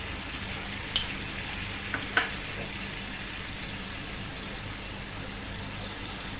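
Tamarind goes into a pan and is stirred, with a soft, steady frying sizzle throughout and a few brief clicks of a spoon against the pan near the start.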